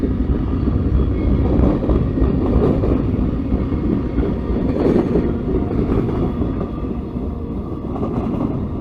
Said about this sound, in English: So we happened to see this train, and it's on the A line that we were supposed to be on.